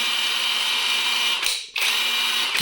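A cordless impact wrench from AliExpress, running on a fully charged 6 Ah Leader battery, spins to loosen in a loud, steady close whir, with one brief drop in the middle before it runs on.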